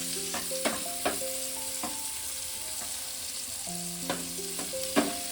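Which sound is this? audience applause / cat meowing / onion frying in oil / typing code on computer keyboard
onion frying in oil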